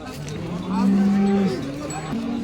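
A cow lets out a single drawn-out moo, rising in the middle, over a low murmur of outdoor background noise at the Baramati cattle market.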